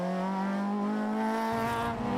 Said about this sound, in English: Brakes hard, turns now through the hairpin.